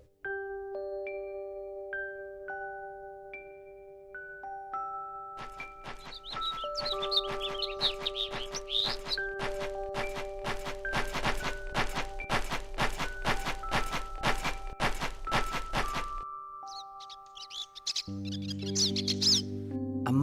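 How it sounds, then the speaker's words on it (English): A migratory bird chirps in Star Ocean 3, soft high tweets scattered over sustained musical tones and a busy rhythmic passage, with no talking. "A migratory bird."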